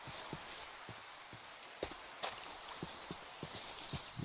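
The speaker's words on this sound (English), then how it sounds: "I like to hear the rain, but I don't like to be drowned out by it." Steady rain hisses outside in a broad, even wash, with scattered louder drips and taps landing nearby at irregular intervals and no talking.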